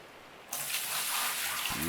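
Water pours into a sluice box in the Gold Rush video game, a steady close gush that starts abruptly and runs to the end, with a low tone rising near the close.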